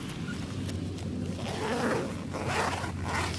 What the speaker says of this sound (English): The zippers are really nice,